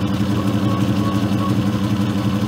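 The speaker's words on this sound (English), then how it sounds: "when I start the spindle, you see the RPM, 528" A Myford ML10 lathe spindle runs at a steady speed, a continuous mid-pitched motor hum with faint rhythmic whirring, loud and close, with no other sounds.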